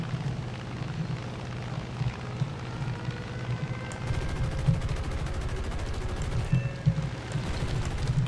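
Rapid .50 caliber machine gun fire in the War Thunder flight game, heard from an XF5F SkyRocket plane, in dense rattling bursts over a steady aircraft engine hum, growing heavier in the second half, with no talk.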